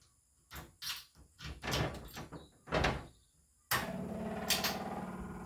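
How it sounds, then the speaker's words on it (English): Electric fuel pump switching on in a 1932 Ford Roadster fitted with a GM 4.3L TBI engine, starting with several clunks and knocks and then a steady, close buzzing whir that runs to the end. "And that's the sound of our fuel pump."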